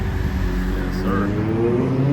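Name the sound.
city street traffic in Zurich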